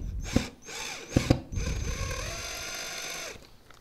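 A power drill drives screws into a record board, with a couple of short whirring bursts followed by a longer steady run that winds down, close and clear with no speech.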